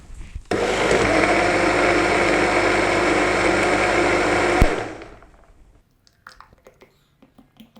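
Blender grinding walnuts and almonds for a date milkshake, a loud, steady whirring roar for about four seconds that stops abruptly, followed by quiet clinks and small kitchen sounds.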